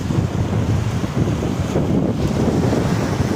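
Sea waves wash steadily onto Bang Saen beach in Chonburi while strong wind buffets the microphone, making a loud, continuous roar that runs through the whole clip with no voices.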